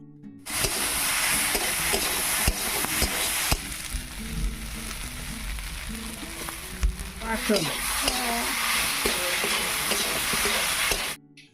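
Fried potatoes added to a fig (dumur) curry frying in a pan, a loud steady sizzle with stirring scrapes and clatter, easing slightly midway then continuing until it cuts off.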